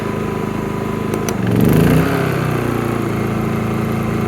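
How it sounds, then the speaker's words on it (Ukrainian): A Zipper ZI-STE 2000 IV inverter generator runs under load, its steady close engine drone briefly bogging and surging louder as the load connects, then settling into a constant hum with no talk. "на долю секунди генератор так трохи підзадумався, затерхотів сильніше"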